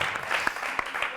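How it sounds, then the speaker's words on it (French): A studio audience at a Rwanda TV game show applauds, a dense steady wash of clapping with a few sharper hand claps standing out. "On l'applaudit encore une fois."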